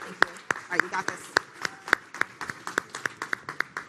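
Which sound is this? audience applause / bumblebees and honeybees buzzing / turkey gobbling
audience applause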